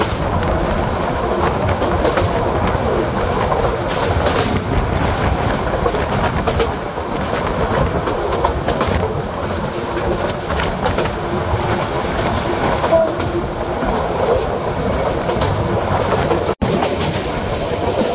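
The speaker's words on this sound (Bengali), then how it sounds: "এই মুহূর্তে ট্রেনটি থ্রুপাস করে যাচ্ছে লাকসাম জংশন" Suborno Express passenger train running through Laksham Junction in Bangladesh, a steady loud rumble with rhythmic wheel clatter throughout, close and continuous, with a brief sharp knock near the end.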